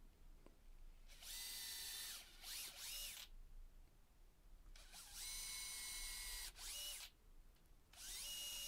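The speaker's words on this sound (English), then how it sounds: "with an awl I could make some marks to drill some pilot holes for the bracket." A power drill whirs in three bursts of a few seconds each, revving up and winding down between short pauses, drilling pilot holes for a shelf bracket into wall studs.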